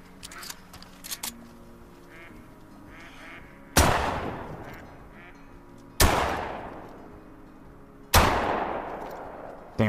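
Three loud shotgun blasts, evenly spaced about two seconds apart, each decaying quickly, fired at ducks in theHunter: Call of the Wild, with faint duck calls and quacks before the first shot.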